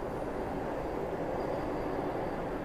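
A Vande Bharat semi-high-speed train runs past at a station in India, giving a steady, fairly faint rushing rumble of wheels and carriages with no break.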